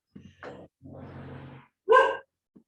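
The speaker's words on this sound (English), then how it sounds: "Now she's barking at that." A dog gives a few short barks and yips, then a louder, drawn-out bark, close by and with no one talking.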